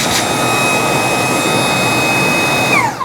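Fanttik Slim V9 Mix or V10 Apex Pivot cordless car vacuum running on its high setting, a steady loud whine with a sharp tonal pitch holding throughout before dropping away as it switches off at the end.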